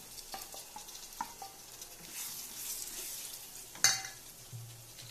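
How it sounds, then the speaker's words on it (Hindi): Two large red tomatoes fry in hot oil with half a teaspoon of asafoetida, making a quiet, continuous sizzle punctuated by spoon scrapes and a sharp utensil clack, with no voices. "हम इसमें दो बड़े लाल टोमेटो डालेंगे।"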